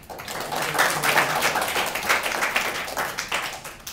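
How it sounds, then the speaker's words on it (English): An audience applauds, a dense wash of clapping from many hands that holds steady for several seconds, with no one speaking. "Go ahead and give them a round of applause."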